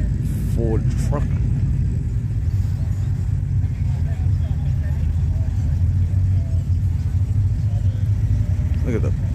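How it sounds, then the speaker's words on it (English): A big Ford dual-cab truck with a large rear tray rumbles past at a car rally, a steady low engine drone close by, with people talking over it. "beautiful big Ford truck."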